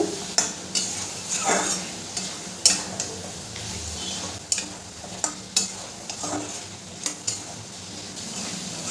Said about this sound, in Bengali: এরপরে দিয়ে দেবো ভেজে রাখা পটলগুলো। পটলগুলো দিয়েও মশলার সাথে খুব ভালো করে আমি কষিয়ে নেব।